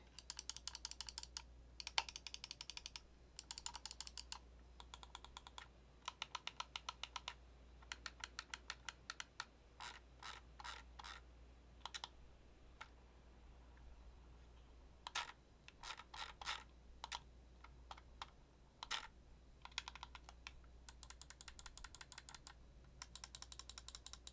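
A computer mouse scroll wheel ticking in quick bursts of rapid clicks, interspersed with single button presses, close and crisp against a quiet background with short pauses between runs.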